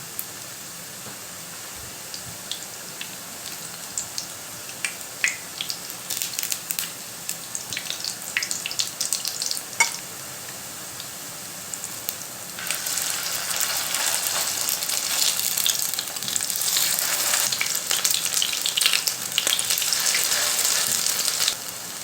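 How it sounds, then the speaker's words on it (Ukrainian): Potato pancakes with minced meat crackle and pop in hot oil in a frying pan over medium heat, starting as sparse spits and swelling halfway through into a steady, bright sizzle. "Смажимо на середньому вогні до хрумкої скоринки з обох сторін"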